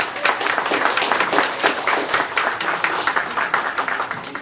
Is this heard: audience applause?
yes